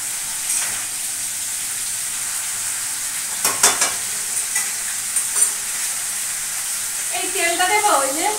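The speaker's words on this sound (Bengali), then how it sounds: "এদিকে মাছের মুড়াটা ভেজে নিচ্ছি" A fish head fries in hot oil in a home kitchen, giving a steady bright sizzle throughout with a few scraping stirs and clatters midway and near the end.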